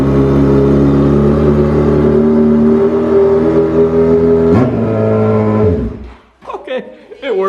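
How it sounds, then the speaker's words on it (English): A custom street-fighter Yamaha R1 motorcycle starting for the first time through a nearly straight-pipe exhaust, loud steady idle with a sharp rev partway through before shutting off, followed by a voice. "That's an angry exhaust system right there. It's almost a straight pipe."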